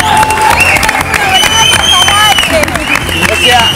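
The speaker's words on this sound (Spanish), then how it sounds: "¡Aplausos! ¡Bravo!" Studio audience at a public-television show's 200th-episode celebration breaks into loud, sustained applause with cheering and whistles, filling the room continuously.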